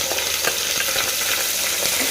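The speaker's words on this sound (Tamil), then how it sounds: "சேர்த்து நல்லா வதக்கி கொடுக்கலாம்." Onions and green chillies with spices sizzle steadily in a hot pan for vegetable biryani, a bright continuous crackle with faint scraping as they are stirred; no voices.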